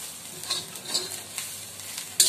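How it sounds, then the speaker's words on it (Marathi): Green chili thecha is stirred with a spatula in a frying pan, giving a continuous hiss of sizzling oil with soft, repeated scraping strokes throughout, close and with no talking. "आणि हा सारखा उलटणीने चाळत राहायचा आहे, नाहीतर तो जळू शकतो."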